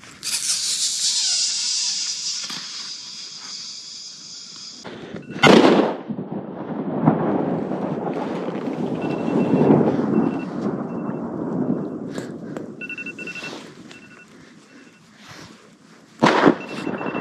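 A single loud explosive charge detonated for avalanche mitigation booms out near the six-second mark, followed by a long rolling rumble that echoes and fades across the mountain, with a sharp second crack near the end.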